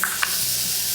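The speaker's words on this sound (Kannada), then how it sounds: "ಬೋರ್ಗಲ್ಲದ ಒಗ್ಗರಣೆ ಕೊರ್ತೀನಿ" Garlic tempering crackles in hot oil with a constant close sizzle, broken early by a couple of light stirring taps against the pan.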